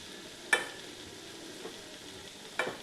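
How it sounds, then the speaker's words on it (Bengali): Bori lentil dumplings being stirred into cooked vegetable stalks in a pan, heard as two brief, soft scraping stirs about two seconds apart against a faint, quiet background. "এবারে বড়িগুলো মিশিয়ে দিলাম।"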